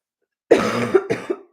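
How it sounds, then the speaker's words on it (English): A person coughing several times in quick succession, close and fairly loud against silence. "I apologize for coughing."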